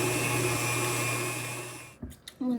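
An electric mixer beats chocolate cake batter with a steady whirring hum that winds down and stops after about two seconds, followed by a few brief knocks.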